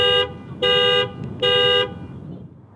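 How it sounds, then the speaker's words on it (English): Three loud, steady honks from a 2019 Toyota Tundra Platinum horn, set off by the key fob panic button, each lasting about half a second with short gaps, heard up close and alone. "push the panic button so we can see what the horn sounds like"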